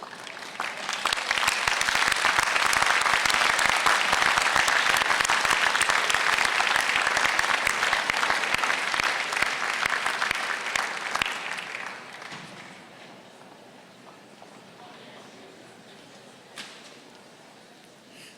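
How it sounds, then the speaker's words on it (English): Graduates at a spring university convocation ceremony applaud their families, loud dense clapping filling a large hall for about twelve seconds before fading to scattered claps and quiet room tone. "give them a warm round of applause for supporting your journey"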